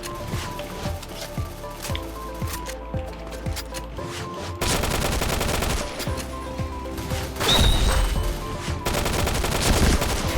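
Rapid video-game gunfire cracks in quick bursts, first a rhythmic run of single shots, then denser overlapping fire and impacts, loud and close with no talk over it.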